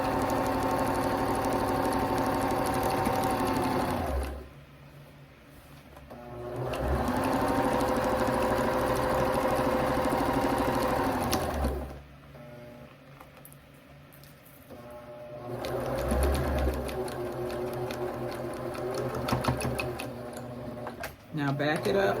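Sewing machine stitching across a drawstring backpack in bursts, running steadily for several seconds, pausing, then starting again, with a voice talking between and over the runs.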